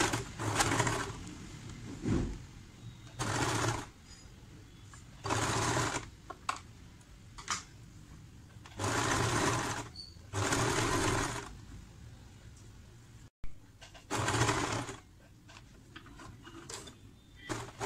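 A sewing machine stitches nighty fabric in loud, clattering bursts of a second or two each, with pauses between runs and a few clicks of handling during the gaps.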